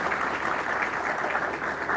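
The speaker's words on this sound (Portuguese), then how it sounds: "uma salva de palmas para Jesus, pela vida desse irmão" A church congregation claps together in praise. The applause is dense and continuous, filling the room at an even level from start to finish.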